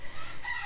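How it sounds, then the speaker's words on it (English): Birds call in the background, giving a short burst of loud, fowl-like, rooster-toned cries with no voices over them. "I've got like birds going off in the background."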